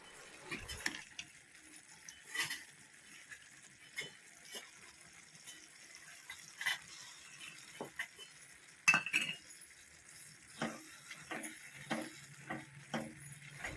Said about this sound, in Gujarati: તો હવે કાજુ બદામ આપણે સારી રીતે મિક્સ કરી નાખશું